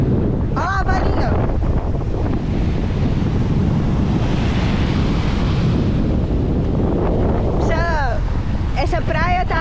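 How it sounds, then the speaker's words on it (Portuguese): Strong wind buffets the microphone on a beach in Ceará, Brazil, a loud steady roar mixed with surf, while a person talks briefly near the start and again near the end. "Não sei se vocês vão me escutar muito, porque tá ventania."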